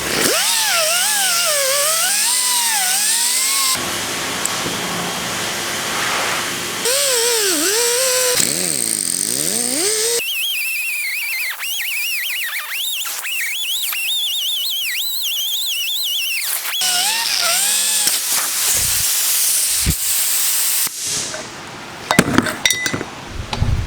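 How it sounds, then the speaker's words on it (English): Die grinder running in a blacksmith shop, a loud, continuous high whine that rises and falls in pitch as the load changes, broken by brief pauses, ending in a few sharp clanks. "I've been cutting corners with this die grinder for a long time."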